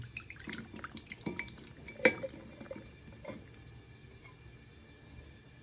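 Olive brine poured from a jar into a pot of solyanka, with splashing and a few glassy clinks. Quiet and close, with nobody speaking.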